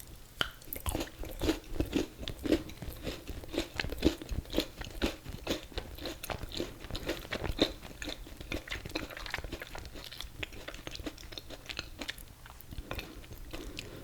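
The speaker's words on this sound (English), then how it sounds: "Chocolate popping everywhere." Crunchy Reese's and Oreo chocolate candy chewed close to the mic, a long run of irregular sharp crunches and crackles at a steady chewing rhythm, moderately loud and alone.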